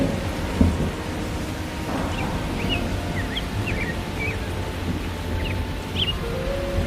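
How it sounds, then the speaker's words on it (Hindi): Steady heavy rain pours in a continuous wash with a low rumble of thunder underneath, and faint bird chirps come through near the middle and end. "अरे ये तो बारिश और तूफान शुरू हो गया"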